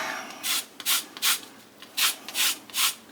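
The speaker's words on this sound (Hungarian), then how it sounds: "A citromunkat belereszeljük, a citromnak a híját." Lemon zest grated from an organic lemon, the yellow peel rasped in six or seven close, distinct scraping strokes with short pauses between them, heard alone.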